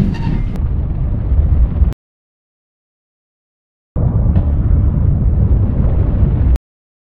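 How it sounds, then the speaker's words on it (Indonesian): Two heavy rumbling blasts aboard a Russian Akula-class submarine in a film, each a loud, dense roar lasting a couple of seconds and separated by abrupt silence. "Tiba-tiba terjadi ledakan di kapal Rusia tersebut"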